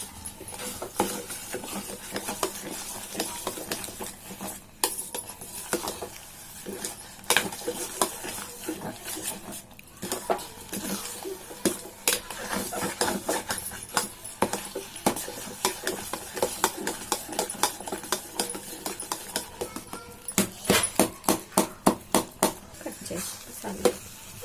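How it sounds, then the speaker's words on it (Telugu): A spoon scrapes and stirs rava and ghee in a pan for sweet undrallu, a continuous soft rhythm of scraping and light metallic clinks, with a faster run of taps near the end. "యాడ్ చేసుకుని మంచిగా మిక్స్ చేసుకోవాలి. కలుపుతూనే ఉండాలి అడుగంటకుండా."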